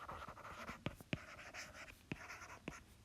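Pen or chalk writing during a maths lesson on proportion: a series of sharp, separate strokes and taps at close range, with soft scratching between them and no talking.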